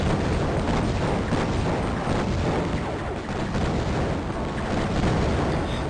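Rapid machine-gun fire from a tracking gun in the Raptor shoot-'em-up plays nonstop as a dense, loud barrage, with booming explosions mixed into the steady roar.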